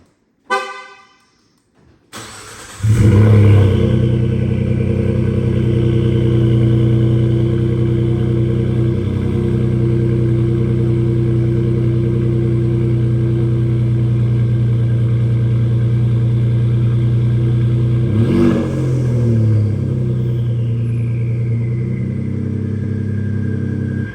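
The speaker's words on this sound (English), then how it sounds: "I think this exhaust sounds 20 times better than it was factory." A Ford 3.5 EcoBoost engine cranks and catches, then settles into a loud, deep, throaty rumble from a full aftermarket exhaust system that holds steady with a brief rev partway through.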